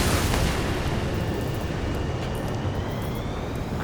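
A loud, sustained jet engine roar in the video game Ace Combat 7: Skies Unknown fills the whole stretch, broad and rumbling with a faint rising whine, no voices over it.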